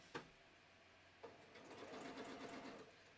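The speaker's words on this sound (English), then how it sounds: "So that's how you sew a button on using your sewing machine." A domestic sewing machine stitching a button onto fabric with a zigzag stitch, starting with two sharp clicks, then running in a steady, close mechanical whir for over a second before stopping.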